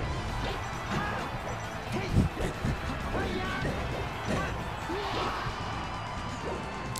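Rapid hits and whooshing strikes from up smash attacks in a Super Smash Bros. Melee doubles grand final, with repeated punchy impacts, one sharper crash near the two-second mark, and commentators talking throughout.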